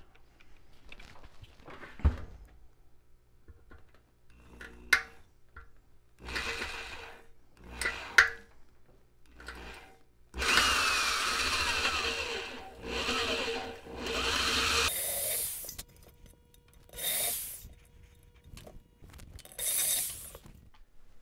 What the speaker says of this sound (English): So what I'm going to try to do is drill this out.